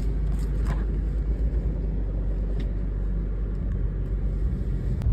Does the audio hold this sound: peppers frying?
no